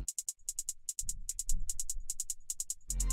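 Trap hi-hat pattern programmed in FL Studio, crisp rapid ticks in clustered bursts and rolls with a deep bass entering beneath, playing alone without talk.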